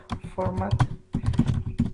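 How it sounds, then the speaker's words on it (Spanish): Typing on a computer keyboard while working in MATLAB, a quick run of clicky keystrokes heard close up under a voice speaking Spanish, with a short pause in the middle. "Aquí también digitamos Help"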